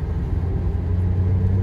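Steady road rumble of a car driving through Maltese streets between Zejtun and Birzebbugia, a low continuous engine and tyre drone with a mid-pitched motor hum, no voices.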